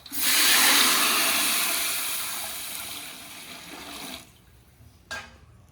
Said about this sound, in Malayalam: അരിക്കുള്ള വെള്ളം ഒഴിച്ച് കൊടുക്കട്ടെ